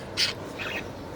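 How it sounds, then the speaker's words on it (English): Pet budgerigars chirp in a small indoor setting, giving a couple of short, bright, fairly faint calls over a low background hiss. "these are my cute little baby birds"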